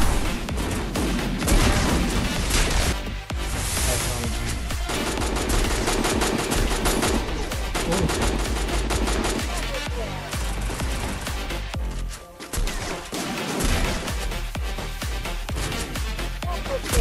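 Rapid bursts of video game gunfire in a ranked battle-royale match, dense and loud across the whole stretch, with brief lulls and occasional heavier booms.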